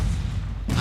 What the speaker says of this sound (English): what you're hearing is people shooting with bows, but it sounds like them shooting with cannons